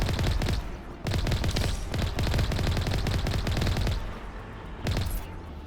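Gunfire in the sci-fi shooter game Mass Effect comes in loud, sustained automatic bursts with brief pauses between volleys, dense and close throughout. No speech is heard.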